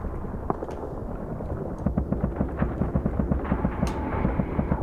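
Gunfire aimed at the player in the video game Rust, heard as a steady rapid run of short repeated shots over a dense rumbling background, with no talking.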